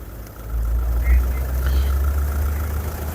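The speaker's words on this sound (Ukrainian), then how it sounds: "автомобіль заведений, не сапунить, не димить, двигун працює чудово" A 2011 Volkswagen Passat B7 1.6 diesel engine idles steadily with a low, even rumble, close and continuous throughout.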